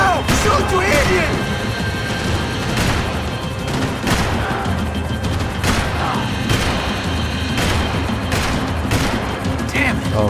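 Rapid bursts of gunfire in the shooter game Max Payne 3 crack repeatedly over ten seconds, loud and dense, mixed with impacts while a voice talks over the action.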